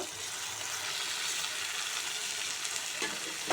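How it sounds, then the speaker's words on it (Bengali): Green jackfruit and boiled potato stir-fried in a pan of spice masala, giving a steady, fairly soft sizzle and faint stirring scrapes throughout, with no talking. "আমি এঁচোড় আর আলু সিদ্ধ দিয়ে 2 থেকে 3 মিনিট খুব ভালোভাবে কষিয়ে নেব"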